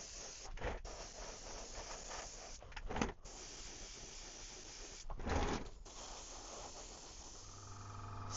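Airbrush spraying paint onto a 3D-printed rainbow trout swimbait, a soft steady hiss broken by a few brief louder bursts, close and without talk.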